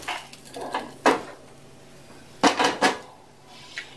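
A paratha goes onto a hot tawa griddle, heard as a few scattered metallic clinks and soft thuds of utensils against the pan, close but fairly quiet, with no talking.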